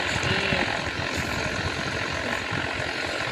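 Aircraft engine in a kamikaze flight video game, a continuous droning, idling-like engine hum with a rough low throb throughout, fairly loud and steady.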